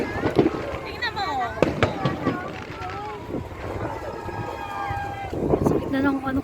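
Fireworks bursting outdoors on a windy night, with several sharp pops and crackles scattered through steady wind rush while people talk and shout nearby.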